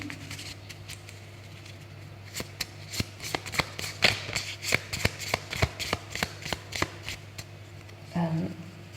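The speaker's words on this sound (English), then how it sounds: "Shuffle, shuffle." Tarot cards being shuffled by hand in a quick series of crisp riffling taps over a low hum, followed by a brief murmur at the end.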